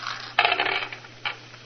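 Dice rolled on a backgammon board in a radio drama, a sharp clattering tumble followed by a second shorter rattle, close and alone.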